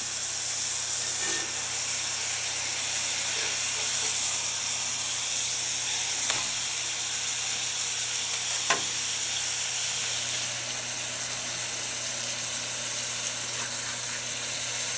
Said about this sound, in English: Give them their first flip. And then we're going to let it cook for a little bit